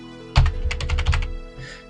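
A quick burst of keystrokes on a computer keyboard, about nine close, clicky taps in an uneven rhythm, followed by a short fainter rustle, with no talking.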